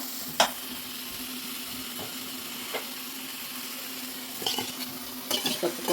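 Sorrel leaves stir-frying in a pan, a steady low sizzle with occasional scrapes and clinks of a utensil against the pan, close and without speech.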